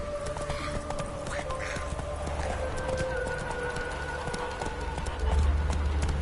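Roach the horse gallops in The Witcher 3, rapid rhythmic hoofbeats clopping steadily under voices talking, with a low rumble swelling near the end.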